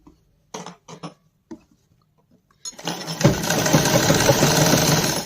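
Sewing machine stitching a sleeve seam, starting up after a few light taps and handling sounds and then running steadily and fairly loud, close by, until the end.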